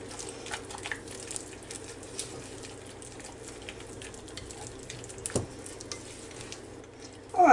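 Egg yolk and a vanilla-flavored cream cheese filling being stirred together in a bowl, a low, steady, soft mixing sound with occasional taps and a louder knock at the end.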